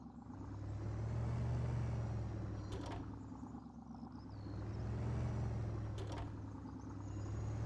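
A truck engine in Farming Simulator 19 labours uphill with a steady low rumble that swells and sags in two long waves, with a couple of brief rattling clicks, and no talk.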